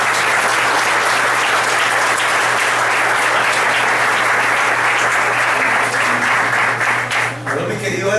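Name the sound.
congregation applauding in church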